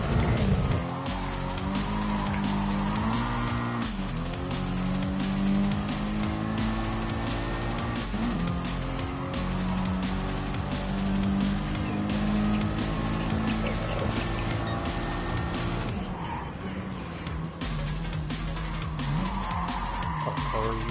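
Honda Civic Type R racing in a video game, its engine droning steadily and loudly throughout with bursts of tire squeal and skidding over game music.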